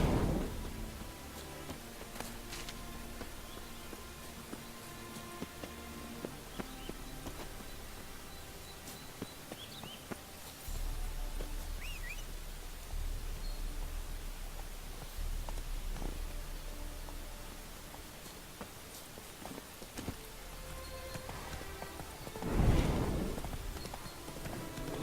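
Horse hooves clip-clop in The Witcher 3 video game, a steady soft walking rhythm on the ground under ambient game background, with a brief louder rustle near the end; no one talks.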